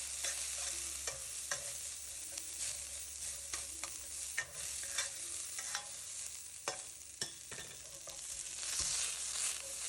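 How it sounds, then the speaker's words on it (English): Onion stir-fried in oil in a wok over very high heat: continuous bright sizzling and hissing with repeated scraping and clanking of a utensil against the metal, close and moderately loud, no talking. "Right, so we're stir frying it here"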